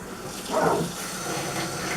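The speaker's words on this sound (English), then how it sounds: "put a little water in it and wash it on through" Water splashes and runs steadily into a soft-drink container to rinse out clumped sugar nearby, a soft continuous wash with a brief louder gush early on, no talking.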